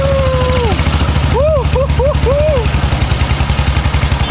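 Engine of a BSA 350cc motorcycle driving a becak in Pematang Siantar, about 50 years old, running with a steady low throbbing close by while someone speaks briefly over it.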